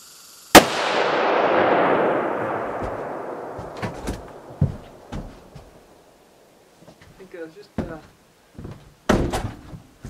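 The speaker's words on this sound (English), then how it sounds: "I'm going to actually have Zachary shoot his, what is it, a Model 70? Yeah. Model 70 featherweight." A Model 70 Featherweight rifle fires one sharp, loud shot outdoors at a deer camp, its report ringing and decaying over a couple of seconds, followed by scattered thumps and clicks of handling nearby.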